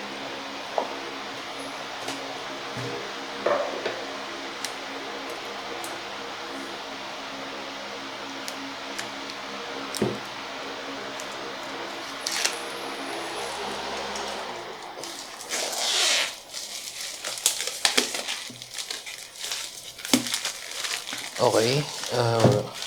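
Packaging of a Keychron Q5 keyboard crinkles and rustles in bursts as it is unboxed, with a low steady hum underneath and someone speaking briefly.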